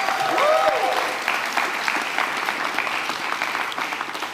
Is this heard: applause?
yes